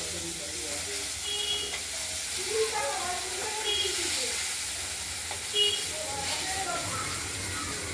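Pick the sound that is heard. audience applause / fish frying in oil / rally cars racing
fish frying in oil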